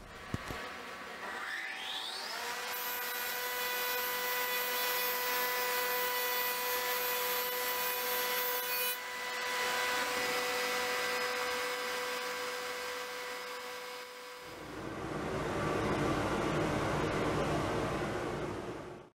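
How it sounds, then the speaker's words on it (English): A jointer and planer flatten rough black walnut glue-ups with a continuous loud whine of cutting wood. The pitch shifts partway through, and a deeper rumble follows near the end. "We will run them over the jointer to flatten the rough glue up, and then plane them down to final thickness."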